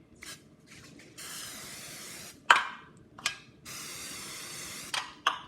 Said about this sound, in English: So now I'm gonna spray in the canola spray.